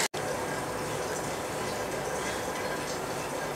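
Dal cooking in water in a pot for bisi bele bhat, giving a steady, even bubbling and hissing simmer that holds at a moderate level throughout after a brief dropout at the start.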